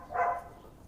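A single dog bark rings out briefly at a moderate distance, one short muffled woof over a quiet outdoor background.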